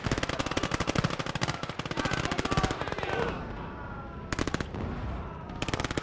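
Rapid bursts of automatic gunfire from the WWII strategy game Gates of Hell Ostfront, loud and close, rattling in long continuous volleys with a brief lull before more bursts resume.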